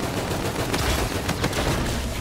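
Assault rifle fire in the Call of Duty: Infinite Warfare video game, a dense, loud continuous burst of rapid gunfire lasting a couple of seconds, with no talking.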